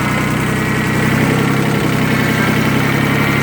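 A Kubota B20 tractor engine runs in high gear, a loud, steady close-up drone with low rumbling harmonics and constant vibration, no pauses.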